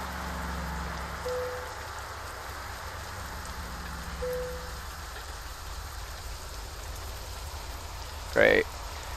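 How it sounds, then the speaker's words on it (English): Rain beginning to fall in a video game, a steady soft hiss of rainfall throughout, with a couple of faint tonal blips and a brief louder burst near the end. "It's starting to rain."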